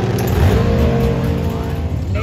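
A Top Fuel drag racing motorcycle engine roars loud and close in a brief burst, a rough, harmonic-rich bark holding steady at high revs.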